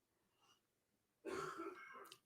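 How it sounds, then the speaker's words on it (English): A man gives a short, rough throat-clearing cough, heard faint in the background after a moment of near silence. "He's got a bad cough."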